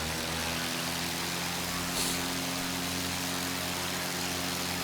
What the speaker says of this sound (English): let's go ahead and start our takeoff run here